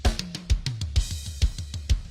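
Punchy electronic kick drum with a preset layer adding top-end click, struck in a steady pattern of about eight hits over two seconds, with a low tonal tail under each hit, alone and close.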